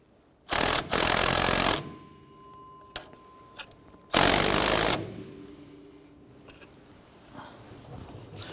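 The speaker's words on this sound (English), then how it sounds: "we're going to put our socket and extension down and tighten the nut from the top" A tool drives the upper shock absorber nut on a 1993-1997 Ford Ranger in two loud, close bursts of whirring, separated by quieter clicks and metallic handling sounds.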